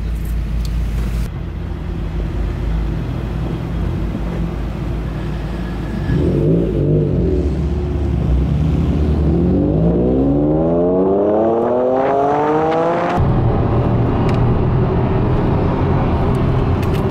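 A JDM car driven on a mountain road in Japan accelerates hard, its engine note climbing steadily through rising revs over a constant road roar, loud and close from inside the car, with no talking.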